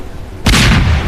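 A cannon fires once in a Roblox game, a sudden loud boom that rings out briefly after a quiet moment.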